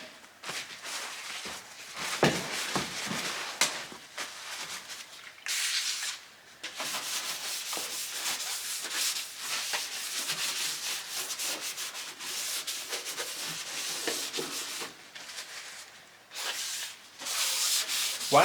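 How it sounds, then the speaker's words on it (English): Skyline trunk part being rubbed down by hand to degrease and clean off dust, a continuous, close scratchy rubbing and sanding sound in repeated strokes of varying pace, with short pauses between passes. "I'm giving this part a quick rub down to degrease it and clean it of dust"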